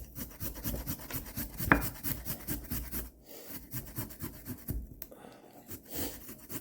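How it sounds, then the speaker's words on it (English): Fresh ginger rubbed against a grater over a dish, giving a close run of repeated rasping scrapes with brief pauses and no talk. "I'll continue to grate up my ginger here"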